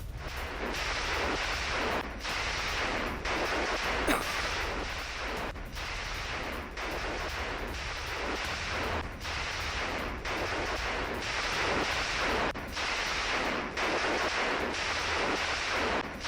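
Gunfire from Israeli troops at a house in Lebanon during a ground operation, heard as loud, steady bursts of shots repeating in a regular rhythm for over fifteen seconds, with no voices.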